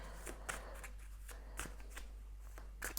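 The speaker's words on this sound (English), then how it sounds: "I'm going to shuffle and see what the cards have to say" Quick bursts of tarot cards being shuffled, riffling in several short flurries at close range over a quiet background, with no talking.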